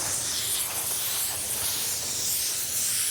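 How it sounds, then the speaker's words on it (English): Anti-static air gun blowing a steady, close hiss of air across a painted car panel during refinishing, continuous and fairly loud with no talking. "you need to hit it with that anti-stat gun afterwards"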